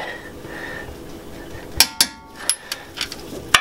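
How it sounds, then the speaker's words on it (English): Ratcheting clicks and metallic clanks of a torque wrench tightening Akebono big brake kit bolts with Z1 adapters on a Nissan 350Z, a burst of several sharp close clicks after a quiet start, no talk. "And now we're just torquing everything"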